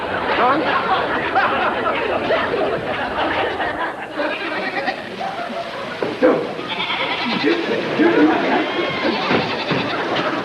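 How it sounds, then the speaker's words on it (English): Goats bleating on a farm as a radio drama sound effect, loose after a neighbor's sprinklers were switched on, heard as a dense, noisy jumble of animal cries mixed with lively chatter and some laughter throughout. "Mr. Maggie, that crazy fool turned on his sprinklers and let my goats loose"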